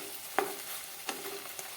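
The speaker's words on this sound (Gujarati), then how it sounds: "આ રીતે તેને મિક્સ કરી દઈશું." A spoon stirs drumstick leaf and flower curry in a pan, three soft, brief scraping strokes spaced apart against a faint quiet sizzle.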